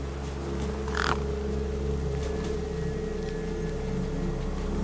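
Crows caw in the video game Beyond a Steel Sky, one harsh call standing out near the start over a steady low ambient hum and faint background tones.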